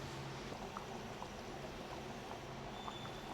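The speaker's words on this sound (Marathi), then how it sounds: "हे लगेच उकळी पण आली आहे." Cowpea curry bubbling at a boil in a pot, a steady dense simmering hiss with faint scattered pops, continuous and close, with no voices.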